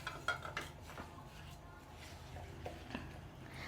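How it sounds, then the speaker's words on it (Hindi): Cream and sugar are mixed in a bowl, a spoon clinking and scraping softly against the sides in a few light, scattered strokes. "बाउल में डाल के इसमें हम डाल देंगे चीनी और इसको कर लेंगे अच्छी तरह हम मिक्स"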